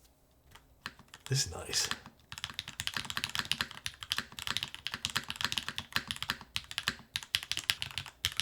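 Close, quick typing clatters on a Solar 80 mechanical keyboard with a 1.2 mm PCB, following a brief pause at the start. A person speaks briefly over the keystrokes.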